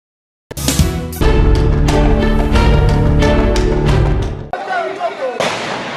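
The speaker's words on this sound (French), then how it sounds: "Des tirs entendus ce mercredi 31 juillet 2024 près la résidence de l'ex-chef de l'État Joseph Kabila Kabange" Gunfire near the residence of a former head of state in Gombe, Kinshasa, heard as a dense, loud rattle of rapid shots that then breaks into scattered reports with some background noise.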